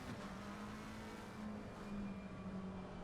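GT3-class Aston Martin race car engine from a sim racing game at the Nürburgring, a steady sustained drone with a constant engine hum held at near-even loudness throughout, no talking.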